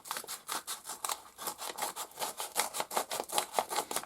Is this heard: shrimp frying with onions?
no